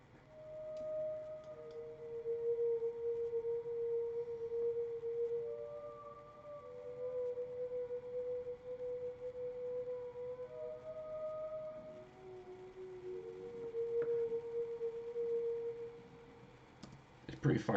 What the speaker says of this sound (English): you wet your fingers and you rub the glass, and that basically resonates these pipes and the sheet, and it creates this sort of weird glassy sound.